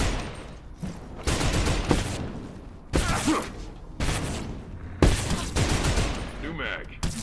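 Gunfire in the video game Abiotic Factor comes in several loud, close bursts of rapid shots with short gaps between them, and reload clicks sound near the end.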